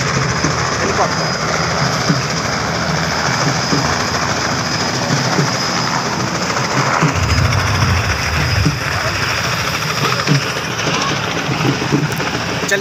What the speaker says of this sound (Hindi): देखिए दोस्तों हेलीकॉप्टर।